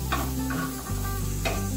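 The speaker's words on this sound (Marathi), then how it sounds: "त्याचबरोबर आपल्याला लसूण आणि अद्रक दोघेही भाजून घ्यायचे" Garlic and ginger dry-roast in a pan, a short, close sizzling hiss with a couple of stirring scrapes over a low background hum.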